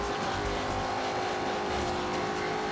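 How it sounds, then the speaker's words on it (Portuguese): A 2015 Ford Mustang engine roars at high speed during a Forza Horizon 2 race, a continuous loud droning rev with steady tonal whine and no pauses. "Tô batendo 220 km por hora com o Mustang."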